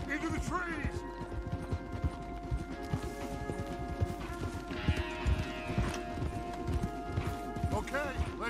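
Horses' hooves clip-clop in a steady galloping rhythm through Red Dead Redemption 2, with an occasional whinny, a music bed underneath and voices talking over the riding.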